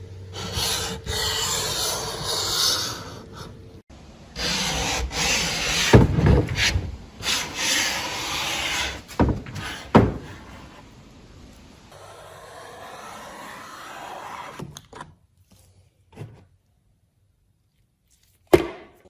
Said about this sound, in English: with one light scrape, not even a lot of pressure, it just sucks it right up